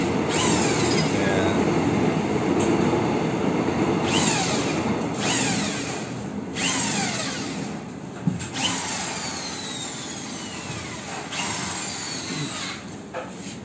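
Power drill boring into a hebel aerated concrete wall while mounting a sink, a harsh continuous grinding whine with bursts of higher squeal, loud and close with no talk.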